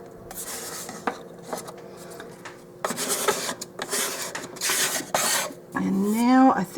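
Wallpaper being squeegeed onto a wall where it wraps down from the ceiling in a bungalow build: close scraping and rubbing strokes in uneven bursts, ending in a squeaky drag, with no talk.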